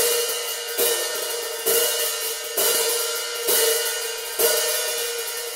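Open 14-inch Zildjian K Sweet hi-hat played in a steady pattern, a sustained bright wash swelling with each accented stroke roughly every 0.9 seconds, close and alone with no talking.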